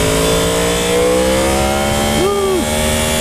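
A 2015 Yamaha R1 motorcycle accelerates with its quick shifter, the engine a loud steady drone from the rider's position, with a brief pitch dip and rise near the end as a gear snaps through.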